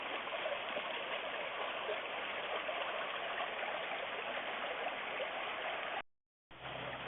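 A farm creek in Ridgeway, Wisconsin, in November, water churning roughly over the site of old seasonal dams, a steady, close, broadband rush that holds constant before cutting out briefly near the end.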